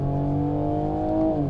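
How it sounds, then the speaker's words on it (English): Toyota GR Supra engine holding high revs, a steady loud droning hum with strong layered tones, heard up close from inside the car with no voices. "you can definitely hear the engine, and it sounds good at higher revs"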